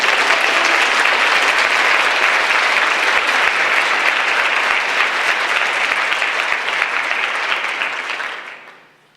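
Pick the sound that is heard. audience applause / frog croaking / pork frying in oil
audience applause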